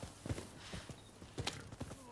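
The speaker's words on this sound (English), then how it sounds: "A cool horse." A horse's hooves clip-clop in the video game Rise of the Ronin, giving a handful of close, moderately loud hoof strikes at an uneven pace.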